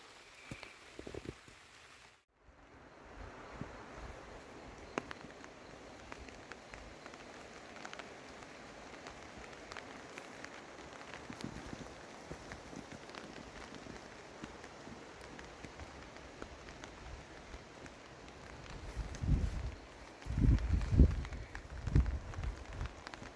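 Rain pattering on a OneTigris Backwoods Bungalow 2.0 tent, a soft continuous hiss of drops on fabric that is steady and fairly faint, swelling into a few heavier bursts near the end.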